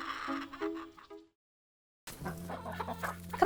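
Backyard farm chickens cluck and chatter in short bursts, then fall silent for a moment before a louder, busier round of clucking rises close by over a low background hum.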